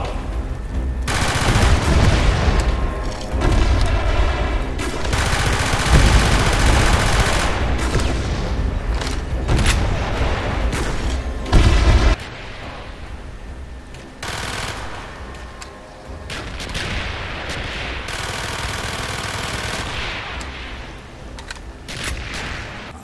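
A PPSh-41 submachine gun fires in Call of Duty Zombies, long rapid automatic bursts that are loud and dense, broken by a brief gap halfway, then more sustained fire with game effects behind it.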